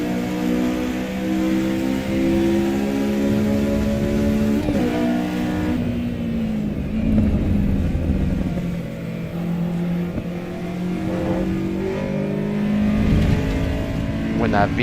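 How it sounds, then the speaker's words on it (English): Simulated car engine in the AC Evo racing game revving hard as VTEC kicks in, a loud rising and falling engine note sustained throughout with gear-change dips and a faint voice underneath. "When that VTEC kicks in"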